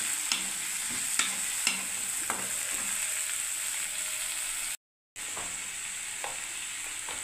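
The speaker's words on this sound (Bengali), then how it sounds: "ব্যাস এবার আমি নাড়তে থাকবো" Potatoes with green chili, turmeric and salt being stirred in a pan. A steady sizzle runs under repeated scraping and clinking strokes of a spatula, with a brief dropout midway. The sound is close and without speech.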